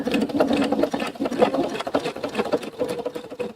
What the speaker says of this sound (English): I'm going to sew about 1/8 of an inch down my bag strap